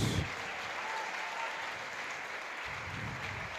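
A church congregation breaks into applause during a service, a thick, continuous wash of clapping that stays fairly steady, with a brief low burst at the very start.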